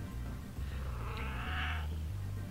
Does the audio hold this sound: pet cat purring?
yes